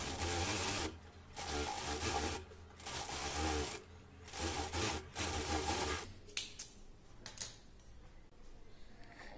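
A sewing machine double-stitches the edge of a 35-inch blouse in several close, whirring bursts broken by brief pauses, then softer fabric rubbing and handling sounds follow.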